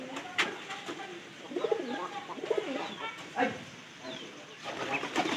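Pet pigeons, one of them sick with a cold, coo in low, rolling throaty runs close by, with a few sharper bird calls and a voice talking over them.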